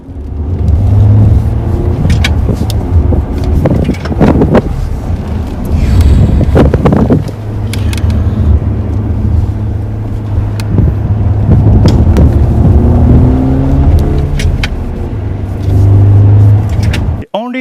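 A simulated manual-transmission engine note from an electrified Lexus sports car, loud and close, rising and falling as it revs through gear changes, with steady wind-like rush underneath.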